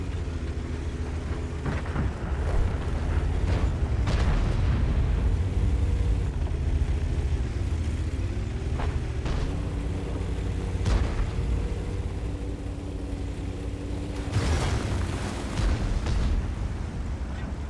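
Tank cannon shots and explosions from the World of Tanks game, including a T57 Heavy autoloader, heavy booming blasts repeating every second or two over a constant low engine rumble, with no voices.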